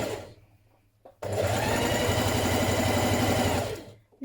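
Domestic sewing machine running a blouse seam, starting with a short back tack before a steady, loud continuous stitching run of about two and a half seconds, with faint handling noises beforehand.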